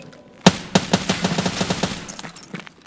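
Automatic gunfire in the shooter game Escape from Tarkov during a Labs raid: a sharp opening shot followed by a rapid burst of loud, closely spaced rounds that trails off into a few scattered shots.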